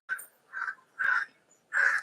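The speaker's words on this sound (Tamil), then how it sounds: "உன் ஃப்ரெண்ட் எல்லாம் காக்கா காக்கான்னு கத்துறாங்க பாரு" Crows caw four times in a row, loud and close, with each harsh call separated by a short silence.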